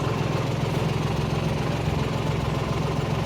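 A tractor engine runs steadily while driving, with a loud, continuous mechanical rumble and a throbbing drone throughout and no talk.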